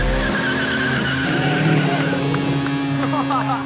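Loud V8 race car engines roar and rev in a pit area, a continuous close, harsh drone with squealing, skidding tones throughout.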